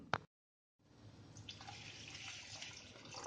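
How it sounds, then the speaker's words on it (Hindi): After a brief clink and a moment of silence, water pours steadily into a pot of dal being cooked, with a soft continuous splashing. "पानी थोड़ा इसमें और डालेंगे हम।"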